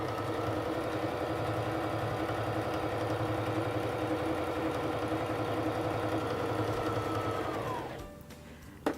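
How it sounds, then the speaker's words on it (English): Singer Fashion Mate 3342 sewing machine stitching fabric with a steady, close, rapid motorized hum and needle rattle for about eight seconds, then winding down and stopping with a small click. "place it under the presser foot, lower the presser foot, and press on the foot control to start sewing"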